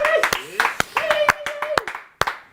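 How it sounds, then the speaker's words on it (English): Scattered, sharp hand claps from a crowd at a women's World Cup climbing final in Innsbruck, loud and close, with someone talking over them. "Big round of applause, please, for Loic."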